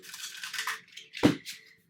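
Tarot cards being shuffled by hand, a couple of quick papery riffles followed by a sharp tap as the deck is squared, close and fairly quiet with no talk.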